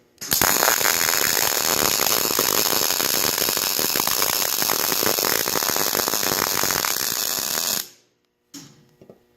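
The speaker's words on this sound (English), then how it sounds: "Then about a 2-inch weld. Another 2-inch weld." Welding a roughly two-inch weld on a trailer repair: a loud, harsh, crackling buzz runs steadily for about eight seconds, then cuts off abruptly, leaving near silence and a faint clunk.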